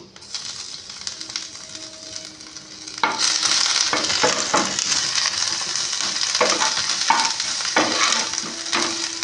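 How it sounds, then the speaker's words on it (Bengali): Fennel seeds and ginger paste hit hot refined oil, the sizzle jumping louder partway through and then crackling steadily with some stirring, close by. "আমি এখানে মৌরি ফোড়ন দিচ্ছি আর আমি এর মধ্যে আদা বাটাটা দিয়ে দিচ্ছি"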